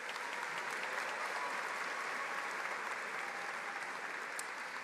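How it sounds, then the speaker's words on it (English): Sustained audience applause for special guests at a college commencement ceremony, a dense, even roar of many hands clapping throughout. "Please join me in applauding these special guests."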